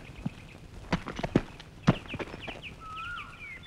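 A horse walks with hooves clip-clopping in a few irregular, fairly close strikes, with faint birdsong in the background and no talk.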